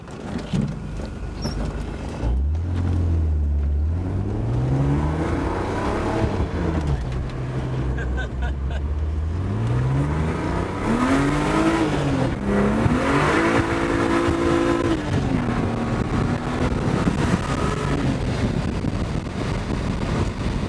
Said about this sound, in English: I think the exhaust tone in the car is super nice. It doesn't drone at all on the freeway. That's why we added that second muffler.